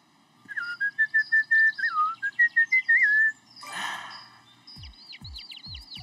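A whistled tune in a cartoon zoo episode, a bright melodic line of short and held notes running for about three seconds, followed by a burst of noise and a few low thumps.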